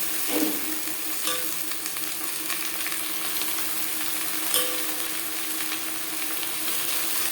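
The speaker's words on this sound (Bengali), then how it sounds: "পেঁয়াজের সাথে রসুন বেশ ভালো করে মিক্স করে দেবো পেঁয়াজ রসুন ভেজে দেবো" Onion and garlic fry in a pan with a loud, steady sizzle and hiss that lasts throughout. A couple of soft stirring scrapes cut in near the start and midway, and no one talks.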